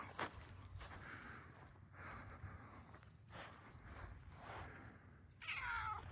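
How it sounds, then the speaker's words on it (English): A cat meows once near the end, a short clear call outdoors by a vegetable garden, after faint rustling and footsteps in quiet surroundings. "Poor little cat."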